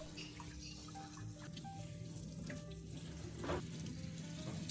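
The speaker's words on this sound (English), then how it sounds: "rinse it once more under running water to completely remove any remaining dirt and vinegar" Cilantro rinsed under a running kitchen tap, a steady hiss and splatter of water pouring over the leaves into the sink, continuous and close with no talking.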